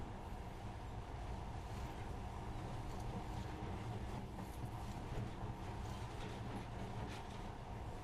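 Monorail train running in the video game Metro: Last Light, heard as a steady, dense rumbling rush of a moving rail car with a constant hum, continuous and fairly faint, with no talk.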